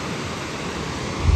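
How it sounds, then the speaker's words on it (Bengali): Waterfall water rushing in a steady, dense broadband roar, with a slight surge right at the end; no voices are heard. "আর এই যে ঝর্ণার পানির শব্দ"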